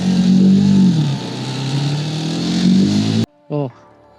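Honda CBR 125 JC34 motorcycle engine from 2006 runs with a steady, fairly loud hum that dips slightly partway through, then cuts out abruptly; a short burst of something else follows.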